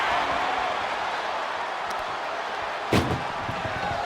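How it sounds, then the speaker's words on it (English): An ambulance door slams shut in the WWE 2K25 wrestling game: one loud, sharp metallic bang near the end, over a steady arena crowd roar. "Tossed into the ambulance. Shut the door."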